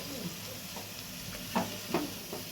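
Cauliflower pakoras frying in hot oil, giving a steady close sizzle broken by a few louder bursts and scrapes as the fritters are turned in the pan.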